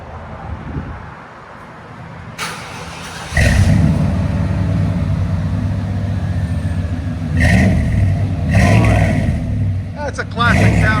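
A 1994 Chevy 1500 long bed with a 5.7L V8 and Flowmaster 40 Series dual exhaust idles quietly, then bursts into a deep, loud rumbling rev from about three seconds in, holding a throaty burble with a couple of sharper throttle blips near the end.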